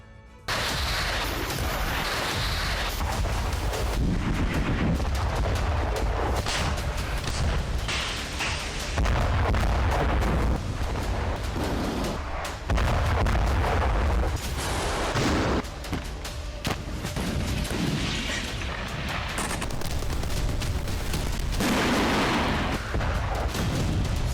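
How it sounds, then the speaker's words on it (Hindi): Heavy artillery barrage on a single target in the Russia-Ukraine war, loud booms and blasts following one another almost continuously, dense and close, with no voices. "एक ही टारगेट पर अनगिनत प्रहार"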